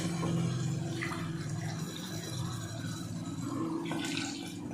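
Water pours continuously into a pot of basmati rice for palak biryani, a steady, moderate gushing close by that swells slightly near the end.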